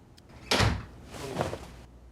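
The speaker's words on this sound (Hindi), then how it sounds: "दरवाजा बंद कर दो।" A door swings shut with a sudden, fairly close thud, then a softer scraping, sliding sound trails off over the next second in a quiet domestic room.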